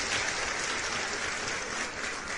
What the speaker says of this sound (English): They're clapping for me, I guess.